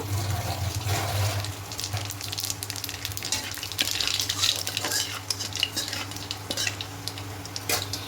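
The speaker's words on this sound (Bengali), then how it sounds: "এবার এই তেলের মধ্যে কালো জিরা ফোড়ন দেব।" Nigella seeds tempered in hot oil for a fish curry with brinjal give off a steady close sizzle, broken by light clinks of a utensil against the pan; no one speaks.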